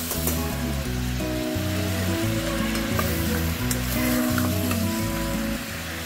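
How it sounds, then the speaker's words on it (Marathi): Mutton fries with onions in a pan, a loud continuous sizzle broken by rhythmic scraping and clanking as the pieces are stirred, with no talking. "मटण छान आपल्याला परतून घ्यायचंय।"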